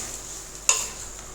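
A sudden hiss as mango water is poured into a hot pan for rasam, sizzling loudly at first and then fading over about a second. No talking.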